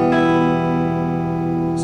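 Clean electric guitar chord, unclipped, sent through an embedded effects processor, ringing out close and steady with a slow decay, alone and with no talking.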